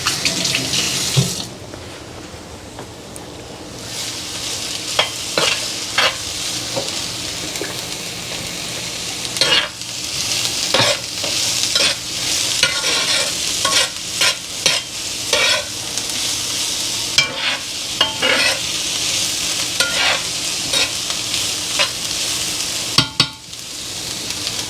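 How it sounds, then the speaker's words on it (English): Potato and onion sauté in a pan with a continuous close sizzle and hiss, broken by frequent clicking and scraping stirs. "the onion so that they can go sauteing and just releasing all those beautiful juices and flavors"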